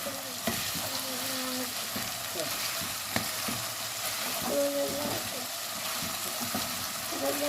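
Chicken liver frying in hot oil gives a steady sizzle, broken by the clatter and scrape of a utensil stirring the pan up close.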